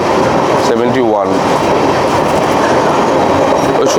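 The Howrah Puri Superfast Express, train 12837, runs at about 70 km/h on a foggy morning. The rumble and clickety-clack of the wheels are loud and continuous from onboard, and a voice speaks briefly over the noise.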